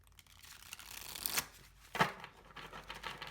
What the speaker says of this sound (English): Gosh, these are so hard to shuffle.